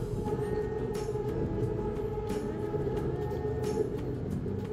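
BTS elevated skytrain in Bangkok running on its viaduct, giving a steady rumbling roll with tonal motor whine and intermittent metallic squeals and clacks, moderately close throughout.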